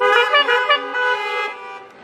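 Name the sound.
car horns honking twice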